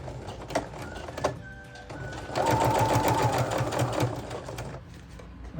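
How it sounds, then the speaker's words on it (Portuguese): Sewing machine running a straight seam on a fila (eketé) cap, a close mechanical whir of rapid needle strokes that starts, pauses, then stitches more steadily and faster. "Agora vou passar uma costura reta em todo o equeté"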